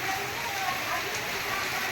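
Heavy rain pours onto clay roof tiles, a steady dense hiss that stays even and close for the whole stretch, with no break or let-up.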